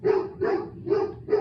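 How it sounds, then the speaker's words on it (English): A dog barks four times in a steady rhythm, loud and close, each bark short and sharp with brief pauses between. "Excuse my dog."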